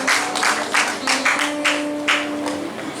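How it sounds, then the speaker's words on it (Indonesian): Audience at a church service in Bandung clapping, a few seconds of scattered bursts over a faint sustained musical tone. "Berikan tepuk tangan dulu."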